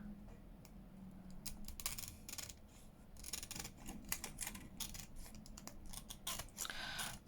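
Scissors snip and trim around the edges of a paper journal card in a crafting session, a steady run of close, crisp cuts with brief pauses between them.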